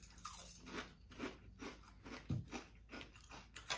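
Crisp, crunchy chewing of dry banana Special K cereal at close range, a steady run of bites and crunches repeating about every half second, with no talking.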